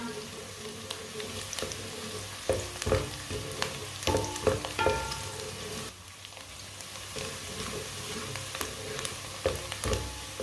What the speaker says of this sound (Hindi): प्याज को हल्का सा ब्राउन कर लेंगे। प्याज को हल्का सा ब्राउन करना, फुल ब्राउन नहीं करना।